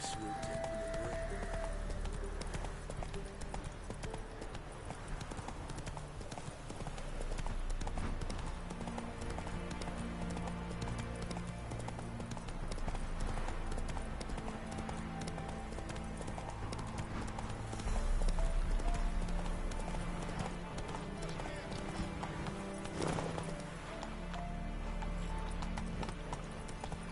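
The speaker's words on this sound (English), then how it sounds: "Whoa there, Roach." Rhythmic hoofbeats of a galloping horse in The Witcher 3 video game, a steady clip-clop running throughout, close and prominent, with game music and ambience underneath and a brief snort or whinny near the end.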